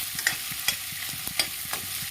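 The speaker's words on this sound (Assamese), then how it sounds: "অলপ সময় এনেকৈ ভাজিব লাগিব পিঁয়াজটো" Chopped onion with two green chillies frying in oil over a medium gas flame, a steady loud sizzle broken by regular scraping stir strokes and occasional small pops, no voices.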